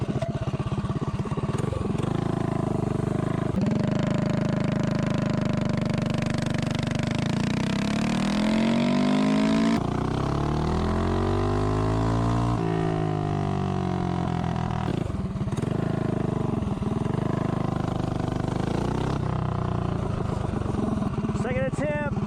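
A mini bike powered by a 212 engine accelerates from 0 to 30, its loud single-cylinder drone climbing steadily in pitch, dropping at a shift and rising again, continuous and close throughout.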